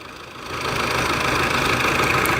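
A tractor engine idles with a steady, rough, knocking drone that swells slightly in loudness after the first half second and then holds, close by, with no talking.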